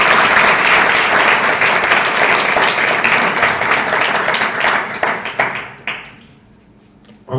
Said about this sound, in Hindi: बच्चे एक बार जोर से ताली बजाएंगे